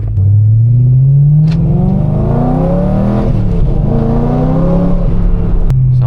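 A BMW M3 with a newly fitted exhaust accelerates hard, its loud engine note climbing steadily through the gears with brief breaks at each shift, close and alone.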